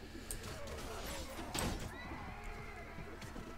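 A horse in the Clash of Kings battle whinnies amid a dense, steady wash of combat noise, with a louder burst partway through and no talk over it.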